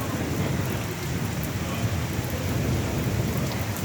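Thunder rumbling through a short rain shower near a pub restaurant on Station Road, Rossett: a steady, dense wash of rainfall over a low continuous rumble, with no speech.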